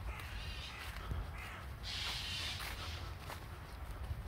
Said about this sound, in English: Peaceful, well, apart from that crow or whatever it is